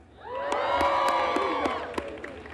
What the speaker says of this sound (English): How about a cheer for that?